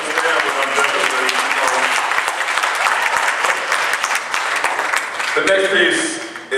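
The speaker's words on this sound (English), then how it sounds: "you clap for them" At a high school spring concert, the audience gives a band loud, sustained applause. A voice talks over the clapping, and the applause shifts toward the end.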